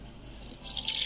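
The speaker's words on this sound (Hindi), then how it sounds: "अब जो कप से मैंने मैदा लिया था उसी कप से मैं पानी डाल रही हूँ" Water is poured from a cup into flour in a bowl while making dough for chicken wraps, a close trickling and splashing that grows brighter toward the end.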